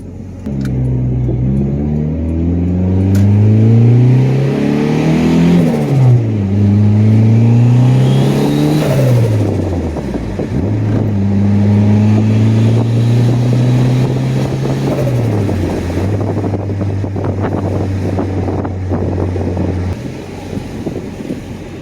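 Boosted Honda Accord engine pulling through the gears under light throttle, its loud droning tone rising and dropping with each shift, heard from inside the car with wind noise.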